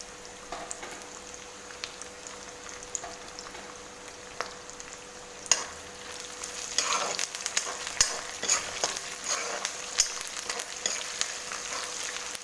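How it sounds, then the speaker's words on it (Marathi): Poha chivda with curry leaves stirred in a pan, a spoon scraping in irregular strokes over a soft sizzle, growing busier and louder partway through, close by with no talking. "सारखं हलवत राहायचं आहे"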